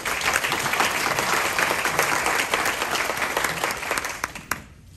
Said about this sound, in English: So let's go ahead and give this panel a round of applause here.